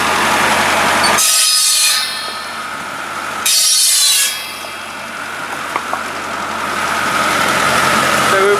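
A tractor engine with a belt-driven pulley wheel runs at a steady low idle, broken twice by loud, harsh rasping bursts of cutting, with a few faint clicks afterward.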